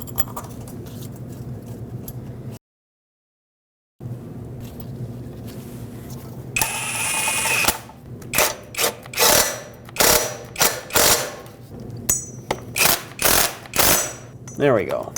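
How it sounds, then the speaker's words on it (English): A hand ratchet snugging the starter bolts on a 2006-2015 Lexus IS250 AWD, a close run of quick clicking bursts in the second half after quieter handling and a brief silent gap. "Just make them nice and snug with a ratchet."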